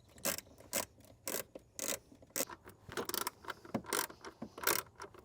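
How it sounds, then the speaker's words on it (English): A ratchet tightens bolts on a Ford Bronco speaker pod in a series of sharp, close clicking bursts, each a quick run of metallic pawl ticks separated by short pauses, with no talking. "Now I'm gonna work on bolting this back into place."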